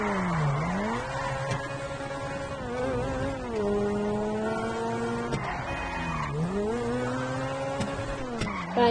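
Bugatti sports car driving in the GTA V video game, a high revving engine whine rising and falling through gear changes, close and steady with no talking.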